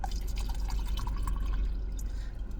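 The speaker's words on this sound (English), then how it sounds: "That's a water pour, you know what I'm talking about? That's a water pour." Water pouring in a steady trickling stream with dripping, splashy texture, close and continuous for a couple of seconds, with no talking over it.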